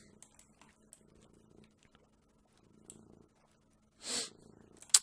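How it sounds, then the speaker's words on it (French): A pet cat settled on a person's lap purrs softly and steadily in a quiet room, low rumbling bursts coming and going, with a faint louder rustle near the end. "Je suis désolé si vous entendez mon chat qui est sur mes genoux."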